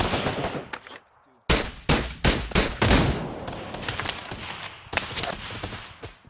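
Gunfire in the VR shooter Pavlov during a Search and Destroy match in a shack map: loud bursts of automatic shots and sharp single cracks, a short pause, then rapid repeated volleys close by.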